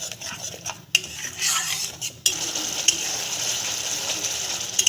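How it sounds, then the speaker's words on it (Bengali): Spice paste frying with beaten sour yogurt in a pan, a spoon scraping and stirring in bursts with clinks of metal over a low sizzle. "দইটা দিয়ে আমি একটু ভেজে নেব মশলাটা"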